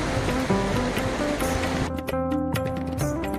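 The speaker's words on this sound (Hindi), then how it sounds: "कल कल करती हुई भगीरथी और अलकनंदा यहाँ पर दोनों आपस में मिलती हैं।" The Bhagirathi and Alaknanda rivers rush together at their confluence at Devprayag, a loud, steady roar of churning water with no break, close by and with no voices over it.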